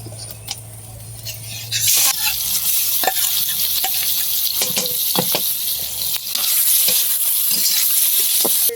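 Spiced food fries in hot oil, sizzling loudly and continuously while a utensil stirs and scrapes the pan in scattered knocks.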